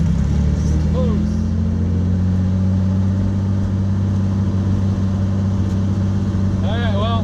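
A car's engine roars steadily and loudly through a launch with a big burnout at an import car face-off, a sustained low drone with faint voices talking briefly over it.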